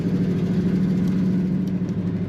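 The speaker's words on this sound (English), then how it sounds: "Nice little rumble to this Pontiac." The engine of a 1972 Pontiac Grand Ville convertible idles with a steady, low, close rumble throughout, alone and without talk.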